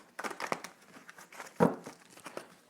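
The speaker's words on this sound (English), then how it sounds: "Cards don't want to shuffle." A deck of tarot cards being shuffled by hand, giving soft crinkling and riffling bursts with one sharper snap in the middle, close and fairly quiet.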